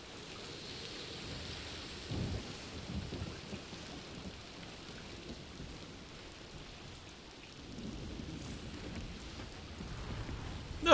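Steady rain with low rumbling thunder in the video game Death Stranding 2, a continuous wash of falling water with a heavier roll of thunder around two seconds in and another swell near the end, with no talking.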